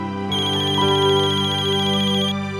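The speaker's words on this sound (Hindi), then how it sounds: "नाम लिया और फोन आया।" A phone ringtone sounds for an incoming call, a loud, steady electronic melody with sustained tones that plays for about two seconds and then stops, with no talking over it.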